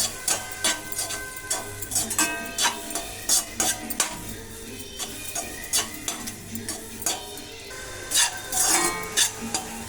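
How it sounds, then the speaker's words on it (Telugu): Grated carrot fry being stirred with chili powder in a hot pan, with quick repeated scraping strokes of a spoon against the metal over a light, constant sizzle. "సో 10 మినిట్స్ కలుపుకున్న తర్వాత కారం వేసుకొని ఇలా కలుపుకోండి."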